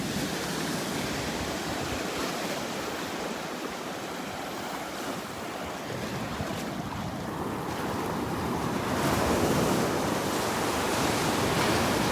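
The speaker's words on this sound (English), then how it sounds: "Nice little waves breaking out here." Small ocean waves break steadily along a sandbar at Delnor-Wiggins beach on a Sunday morning, a continuous close wash of surf with wind buffeting the microphone and swelling louder near the end.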